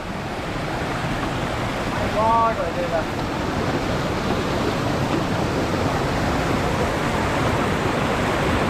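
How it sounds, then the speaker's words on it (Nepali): A river rushes steadily nearby, a broad continuous roar of flowing water, with a brief voice rising faintly over it early on. "खोला आइपुग्यो"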